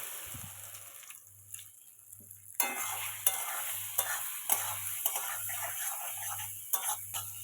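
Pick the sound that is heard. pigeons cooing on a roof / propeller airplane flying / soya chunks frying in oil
soya chunks frying in oil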